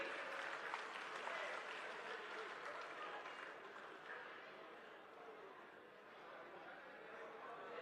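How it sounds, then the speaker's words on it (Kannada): A crowd applauds at a welcome ceremony during a groundbreaking puja for a town panchayat office in Dodda Thogur. The clapping runs broad and continuous, easing slightly midway, with a murmur of voices mixed in. "ಮತ್ತೊಮ್ಮೆ ಪ್ರೀತಿಯ ಸ್ವಾಗತ, ಸುಸ್ವಾಗತ ತಮ್ಮ ಜೋರು ಚಪ್ಪಾಳೆಯೊಂದಿಗೆ"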